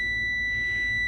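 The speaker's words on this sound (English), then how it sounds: "There's our low air warning." A steady, continuous truck low air pressure warning buzzer holds without a break, loud and close, over a low engine rumble.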